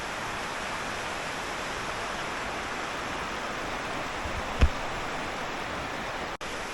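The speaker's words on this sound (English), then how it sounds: "It's quite a big river actually." Steady broadband rush of the River Tromie, a fairly big Highland river in Scotland, flowing continuously at a moderate level, with one brief soft knock partway through.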